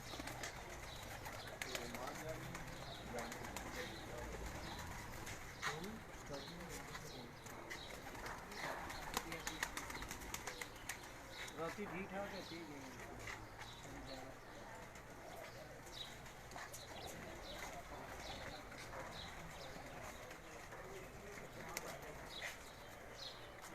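Pigeons coo softly on a rooftop loft, with faint murmuring calls and scattered small clicks and thumps in a quiet outdoor setting.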